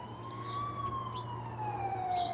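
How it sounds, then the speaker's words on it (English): A police or emergency vehicle siren wails along a main highway, its tone slowly rising and then falling over a steady bed of road rumble. It sounds fairly distant and stays at a moderate level. "And you hear those sirens, those come through quite often."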